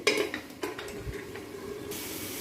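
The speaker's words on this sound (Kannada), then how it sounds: "ಅದನ್ನು ಹಾಕ್ತಾ ಇದ್ದೀನಿ ಟೊಮೆಟೊ ಮತ್ತು ಕ್ಯಾಪ್ಸಿಕಮ್ ಒಂದು ಸ್ವಲ್ಪ ಬೇಯಲಿ" Tomato and capsicum cook in a pan, a few scraping stirs and utensil knocks over a soft sizzle, then a steadier, brighter hiss of frying toward the end, close and fairly loud.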